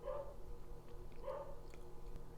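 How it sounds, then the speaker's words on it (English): A dog barks twice, a muffled pair of barks about a second apart, faint and somewhat distant indoors with no one talking. "What are you even barking at?"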